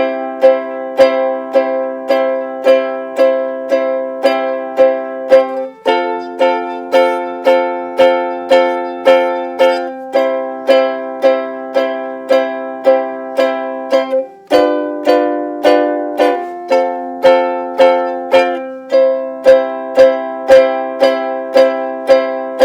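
Piano plays a 12-bar blues progression through, straight even chords struck on every beat in a steady rhythm, shifting to new chord positions several times, clean and close with no voices.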